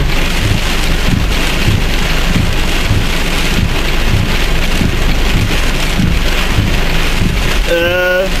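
Heavy rain pours down steadily from a passing thunderstorm cell, a loud, dense roar of rain on surfaces with low rumbling underneath; a brief tonal warble rises near the end.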